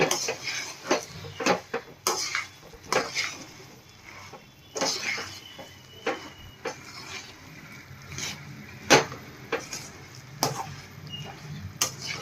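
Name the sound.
stirring puffed rice laddu mixture in pan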